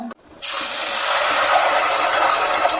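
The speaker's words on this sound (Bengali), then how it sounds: "ডালটা আমার ভাজা হয়ে গেছে এবার আমি পরিমাণ জল দিয়ে দেবো" Water poured into a hot pan of fried moong dal for Gobindobhog rice khichuri, bursting into a loud, sustained sizzling hiss after a brief quiet start and continuing steadily close by.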